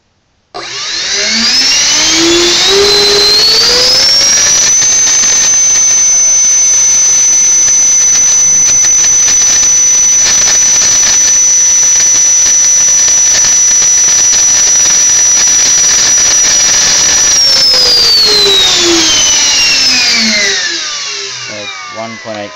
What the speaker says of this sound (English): SU35 stock motor and housing with a CS10 rotor.